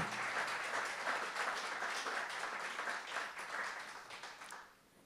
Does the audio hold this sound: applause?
yes